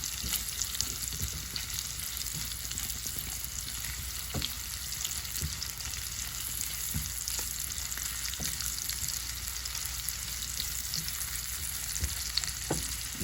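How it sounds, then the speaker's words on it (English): Chopped portobello mushrooms sauté in a pan with a soft, continuous sizzle and occasional light clicks of a utensil moving them around, steady and fairly quiet with no voices. "I'm going to saute."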